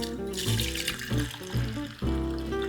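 Water poured from a container into a cooking pot for bear ham, a steady close splashing stream with several brief surges and dips over a few seconds, no talking.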